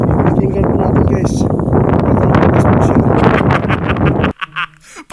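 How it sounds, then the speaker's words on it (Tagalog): Strong wind gusts roar against a house near a cemetery, a loud, continuous rush with heavy buffeting on the microphone, dropping away abruptly near the end to brief faint bursts. "Pero yung hangin yung naririnig."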